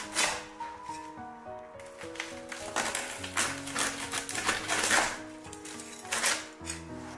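Crisp cutting strokes as a knife slices through sweet dumpling-wrapper shaqima with dried fruit on a plate, a series of sharp crunchy taps with soft music playing underneath.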